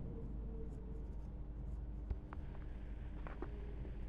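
Chalk or marker writing on a board during a physics lesson on reflection of light, a faint scratchy patter of strokes over a steady low room hum, with a couple of brief taps near the end.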